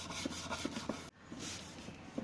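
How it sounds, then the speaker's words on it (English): Sanding a wooden desk organizer by hand, a soft rhythmic rubbing with short repeated strokes, close and fairly quiet, broken by a brief pause midway. "So all I'm going to do is sand it a bit so that the surface becomes rough"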